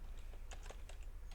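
Quiet, rapid clicks of typing on a computer keyboard, a short irregular burst of keystrokes close by with nothing else.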